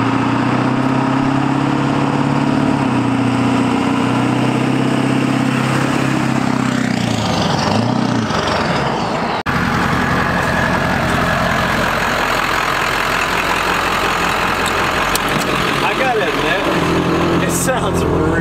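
A Ford Powerstroke diesel in an OBS pickup truck runs steadily and loud throughout, a constant low engine drone with road noise while cruising on the highway, a brief shift in tone partway through.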